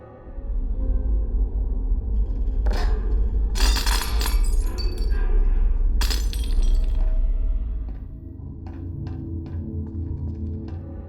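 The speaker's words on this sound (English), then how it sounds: "this puzzle can be brute forced just by slamming props against the glass until it breaks" Glass breaking in the Portal video game as props are slammed against it, several loud sharp shattering crashes, then a few lighter tinkling clinks over a steady low hum, no speech.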